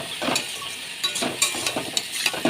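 Spiced watermelon rind and shrimp being stirred in a pan, with soft scraping, light sizzling and occasional clinks of a spoon against metal, close and fairly quiet.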